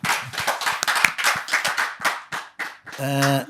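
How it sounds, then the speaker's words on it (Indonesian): Audience clapping at a talk-show style discussion, distinct separate claps in a loose, uneven rhythm close to the microphone, followed by a brief sustained tone at the end. "Tepuk tangan dulu."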